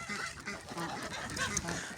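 Wet young goslings honk and peep in a busy, overlapping chorus on a farm on a rainy autumn morning, close by and fairly loud.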